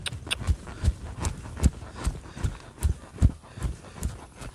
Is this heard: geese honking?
no